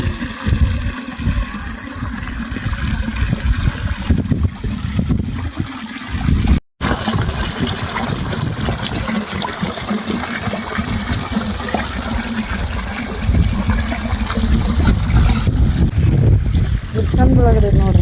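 River water flows and gushes continuously beside farm fields, a loud, steady rush that runs through the whole stretch with voices talking over it.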